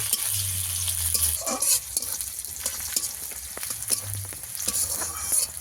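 Chopped onions frying in oil for a snakehead fish and eggplant curry, a steady close crackling sizzle with scattered sharp pops and occasional scraping stirs, no voices.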